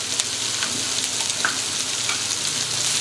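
Chinese-style rice with black pepper and salt fries in a pan while being mixed, a loud, dense and steady sizzle with light stirring scrapes, close up and without voices.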